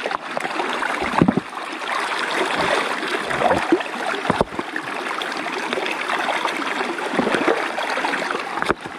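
Water runs and trickles steadily through stones at a fish pond, a continuous close gurgling stream with occasional small splashes and knocks.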